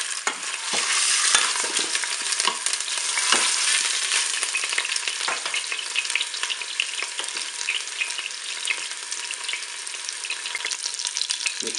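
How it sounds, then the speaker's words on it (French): A roast browning in oil in a Cookeo pot gives a loud, continuous close sizzle and crackle with small spatters, and no voices. "Et puis on verse l'huile dans la cuve. Allez, on va faire dorer notre rôti sur toutes ses faces."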